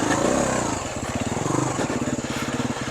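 A dirt bike fitted with Motoes clutch weights runs off-road, its engine putting out a rapid, steady pulsing chug at moderate distance, with wind noise over it and no talk.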